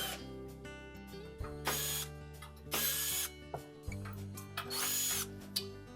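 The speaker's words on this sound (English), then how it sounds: "So just remove the screws from the lower back panel." A power screwdriver backs screws out of the lower back panel of a Frigidaire electric oven range, with short bursts of whirring motor separated by brief pauses and metallic clicks, close and alone.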